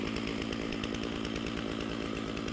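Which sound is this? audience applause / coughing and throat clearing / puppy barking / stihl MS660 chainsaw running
stihl MS660 chainsaw running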